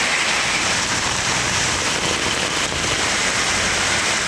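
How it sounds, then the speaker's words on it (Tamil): Heavy rain pours down across the Trichy area, including Woraiyur, Thillai Nagar and Thennur, as a dense, loud, unbroken hiss that stays even from start to finish with no voices. "திருச்சி சுற்றுவட்டார பகுதிகளான உறையூர், தில்லைநகர், தென்னூர், மன்னார்புரம் உள்ளிட்ட இடங்களில் கனமழை பெய்தது."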